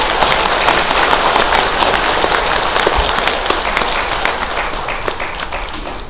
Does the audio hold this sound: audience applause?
yes